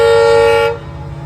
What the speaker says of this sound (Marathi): तिकडून आली मग ट्रेन. हे कच्चीगुडा एक्सप्रेस आहे